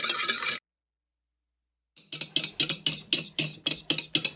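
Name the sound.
whisking dalgona coffee by hand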